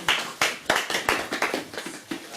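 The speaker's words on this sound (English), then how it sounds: "clap offering unto the Lord." A congregation at a church service claps steadily in unison, about nine sharp claps at an even, brisk rhythm, close and fairly loud with no talking.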